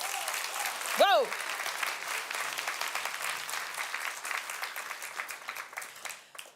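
Steady applause from a conference audience at a hotel market event fills the room, many hands clapping at moderate distance after a brief spoken exclamation, slowly thinning toward the end.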